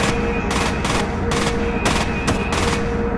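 Gunfire in the shooter game Project IGI 2, a run of about seven loud, evenly spaced gunshots, close and punchy, over a steady game background hum, with no talking.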